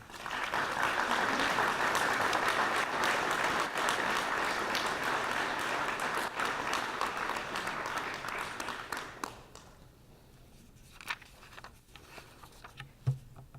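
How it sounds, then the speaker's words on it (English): Dinner guests at a chamber of commerce awards banquet give a sustained round of applause that holds steady for several seconds, then drops away to a few scattered claps and room noise. "So could you please give a round of applause for the folks at the Community Help Center."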